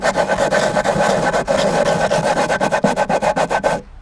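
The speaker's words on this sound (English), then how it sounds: "we're going to take our block and our sandpaper" A sanding block with sandpaper rubs back and forth over rough wood, a steady scratchy rasp with quick repeated strokes, close and fairly loud, ending abruptly.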